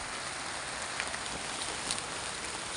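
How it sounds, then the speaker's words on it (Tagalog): Steady, dense downpour of heavy rain hissing across all bands, constant and close with no voices, a few drops spattering nearby. "Ang lakas ng ulan."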